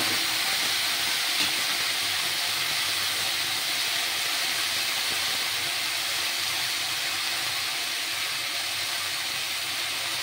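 Vegetables for shukto fry lightly in oil, a steady broad sizzling hiss that stays even and continuous throughout, close and moderately loud with no voices.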